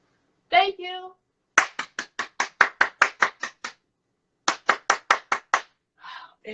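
A crowd at a live show claps in rhythmic unison, two runs of sharp, evenly spaced claps separated by a pause, with a voice speaking briefly at the start and again at the end.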